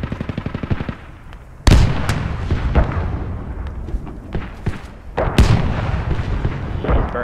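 Tank cannon fire and heavy gunfire in the military video game Squad, with two sharp loud booms a few seconds apart amid rattling shots and rumbling battle noise, no talk.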